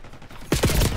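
Burst of gunfire from Call of Duty: Black Ops 6 erupts loudly halfway through, a dense rapid volley of shots following a quieter stretch, with no talking.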